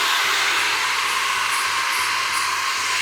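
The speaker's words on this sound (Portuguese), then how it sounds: "Peguei o meu secador, eu vou colocar no morno e vou secar o cabelo dele todo para baixo" A hair dryer on its warm setting blowing hair downward in a barber shop, a loud continuous airy roar with a steady hum held throughout, no talk.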